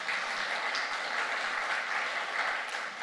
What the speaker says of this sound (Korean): 우리 오셨는데 먼저 박수 한번 하시죠.